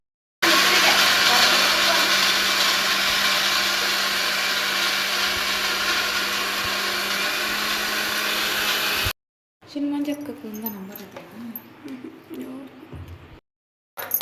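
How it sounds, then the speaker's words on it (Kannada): A kitchen mixer grinder (mixie) runs in a loud, steady whirring drone for several seconds, then cuts off abruptly, followed by people talking amid household noise. "ಮಿಕ್ಸಿಗೆಲ್ಲ ಹಾಕಿದ್ದು ಕಂಪ್ಲೀಟ್ ಆಯಿತು"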